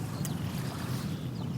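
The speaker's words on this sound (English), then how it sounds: "the waves in the background crashing against the beach." Waves crash against a beach with a steady, dense surf wash filling the whole moment, joined by faint bird chirps.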